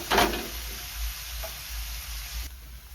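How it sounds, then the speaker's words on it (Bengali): Food fries in oil mixed with a spoonful of ghee, giving a soft steady sizzle with a brief stirring burst at the start. "দেখো এইগুলো এখন ভাজবো। 1 চামচ ঘি দিয়ে দেবো একই তেলে।"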